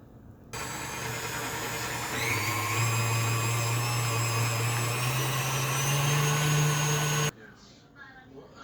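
An electric mixer whips three egg whites with a quarter cup of white sugar into a stiff meringue. It gives a steady, close whine for about seven seconds and rises in pitch partway through, and then it cuts off.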